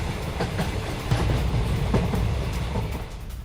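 A freight train carries military tanks on flatcars, giving a loud steady rumble with rhythmic wheel clatter over the rails, close and continuous with no speech.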